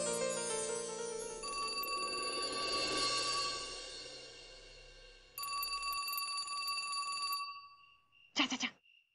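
A telephone rings with a steady electronic trill, fairly close, pausing once before resuming, then a short clatter at the end.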